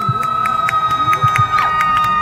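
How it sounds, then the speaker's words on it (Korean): A concert crowd cheers and shouts for a singer's fan club at a subway Line 5 hope concert, a steady loud roar with rhythmic bursts throughout. "이분들께 박수 한 번만 부탁드리겠습니다"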